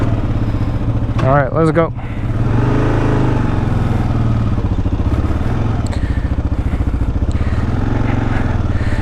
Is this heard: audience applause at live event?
no